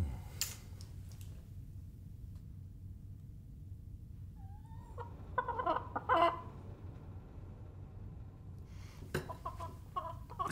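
Chickens cluck and call in short bursts at moderate distance, with quieter stretches between over a low steady hum.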